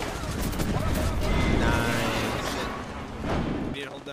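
Rapid gunfire in the video game Apex Legends during a competitive tournament match, dense overlapping bursts of shots in a sustained barrage that eases toward the end, with players' voices mixed in.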